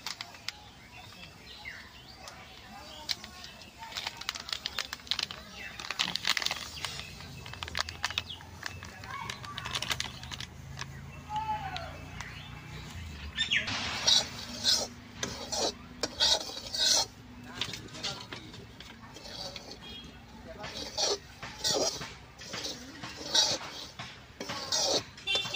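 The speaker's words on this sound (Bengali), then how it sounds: "1 প্যাকেট সুজি কড়াইতে আমি এখন দিয়ে দেবো।" Dry semolina being poured into a wok and roasted, heard as soft scraping and rasping stirs with a spoon, faint and irregular across the clip.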